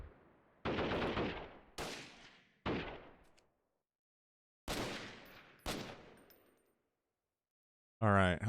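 Gunfire aimed at the player in the video game Freeman: Guerrilla Warfare, arriving as five or six sharp, loud bursts of shots separated by short silences, with a different synthetic sound cutting in at the very end.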